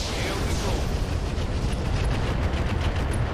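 Mech rockets fire and explode in the video game RogueTech, a continuous dense roar of blasts and bursts that stays loud and close from start to finish.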